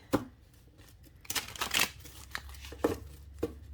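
Playing cards are shuffled up close in a few brisk riffles and taps, with quiet pauses between.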